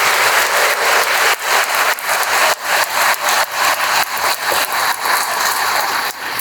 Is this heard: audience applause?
yes